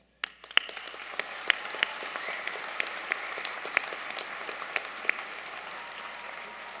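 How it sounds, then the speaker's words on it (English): Steady applause from a convocation ceremony audience, dense and continuous with a few sharper individual claps standing out, starting abruptly after a brief silence and holding at moderate level throughout. "Let's keep the applause going"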